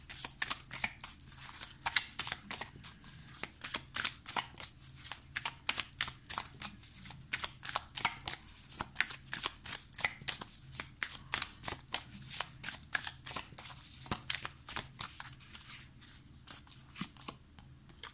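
Manga Tarot cards are shuffled by hand in a steady stream of quick, crisp riffling flicks that continue for the whole stretch, close up and without talk.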